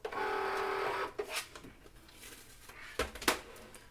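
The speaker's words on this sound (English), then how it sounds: "Let's go ahead and unload this mat and remove the shapes." A Cricut cutting machine unloads its cutting mat, a whirring motor running for about a second, then a few soft clicks and taps as the mat is handled.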